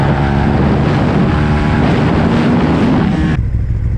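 A KTM 1290 Super Duke R motorcycle rides along at an easy warm-up pace, its engine a loud, continuous drone mixed with heavy wind rush, with the pitch shifting between gears, close to the rider with no voices.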